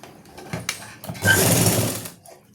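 A sewing machine stitches a suit seam, with a few short taps and starts before a loud, steady burst of rapid stitching lasting under a second, then it stops.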